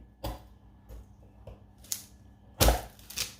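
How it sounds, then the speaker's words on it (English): A knife cuts white chocolate rocky road into small pieces, giving a few sharp, separate cracks and thuds on a board with quiet pauses between them. "once you've managed to cut your rocky road, we can now go ahead and cut little pieces"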